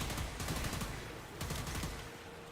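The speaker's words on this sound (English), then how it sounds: "it's literally I'm shooting at his feet" Rapid automatic gunfire in the video game Warframe during an Archon Hunt, dense bursts of shots firing continuously with a short lull midway, loud and close.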